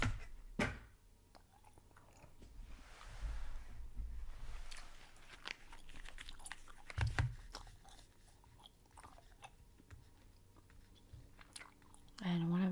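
Close, moist chewing of Bazooka bubble gum, soft smacks and squelches spread unevenly across the stretch, with a few sharper pops and rustles and a brief stretch of talk near the end.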